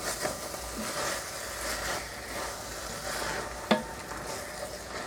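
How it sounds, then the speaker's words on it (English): Food that is sticking to the bottom of a frying pan is stirred, producing soft scraping and shuffling over a low, steady sizzle, with one sharp clack of the utensil near the end. "Let's give these a stir through. That's starting to stick to the bottom."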